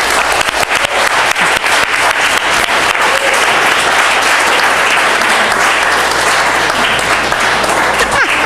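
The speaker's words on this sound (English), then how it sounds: "let's give a round of applause to our candidates" An audience at an environmental candidate forum gives the candidates a sustained round of applause, loud, dense clapping from many hands that holds steady and close for the full stretch.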